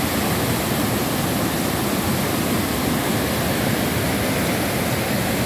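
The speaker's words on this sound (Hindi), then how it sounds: "इस वक्त हम कुंडल शाही वाटरफॉल पे आए हैं" The Kundal Shahi waterfall in Neelam Valley roars as a dense, steady rush of falling water, loud and close, a constant broadband wash with no breaks and no voices.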